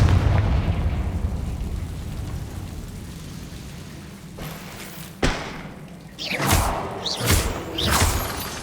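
Confringo fire-blast spell explosions in Hogwarts Legacy, a steady rain-like hiss broken by a sharp thump and then a cluster of loud bursts in the last few seconds.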